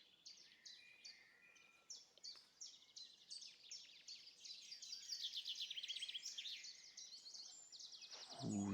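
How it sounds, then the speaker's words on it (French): Birds sing and chirp continuously in a calm outdoor setting, with many quick overlapping trills and tweets at moderate distance, fairly soft, ending with a louder low sound at the very end. "Vous entendez les oiseaux chanter."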